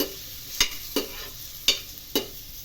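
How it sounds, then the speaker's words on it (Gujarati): Dates are warmed and stirred in a pan while making dry fruit laddu, a soft sizzle under four sharp scraping strokes of a spoon against the pan at irregular intervals. "ખજૂર પણ નોર્મલી ગરમ કરી દઈશું."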